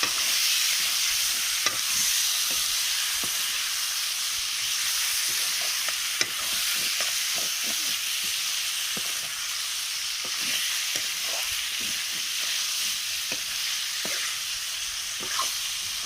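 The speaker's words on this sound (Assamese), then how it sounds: "ইয়াতে মাংসখিনি দি দিছোঁ অকণমান লৰাই থাকিম" Local chicken meat frying in a pan over heat, a continuous close sizzle punctuated by repeated sharp clicks and scrapes of stirring throughout.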